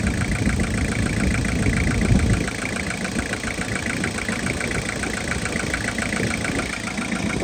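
A Toyota Hiace van with a 5L diesel engine idles nearby, its low, even rumble running steadily and alone with a faint rhythmic clatter.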